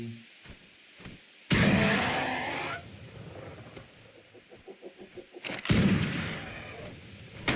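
Sniper rifle fire in the video game ARK Survival Ascended: two sharp, loud blasts a few seconds apart, each trailing into a rumbling decay, with quieter clicks and scattered game sounds in between.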